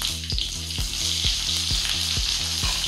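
Chopped onions fry in ghee with a steady, close sizzle, while a utensil scrapes and stirs the pan in a regular rhythm.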